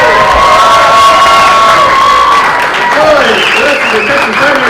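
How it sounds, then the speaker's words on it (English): A crowd at a convention Q&A for the Night of the Living Dead cast bursts into loud, sustained applause mixed with cheering and whoops, filling the room without letup. "Another round of applause."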